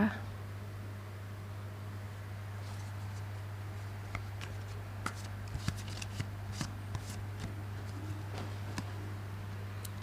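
Tarot cards are shuffled and drawn, making soft scattered flicks and snaps over a steady low electrical hum, fairly faint and close, with no talking.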